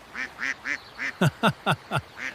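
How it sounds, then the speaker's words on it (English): A duck at a park pond quacks repeatedly in a steady rhythm, with a burst of four sharper, louder quacks in the middle, close by and alone. "That duck is very loud."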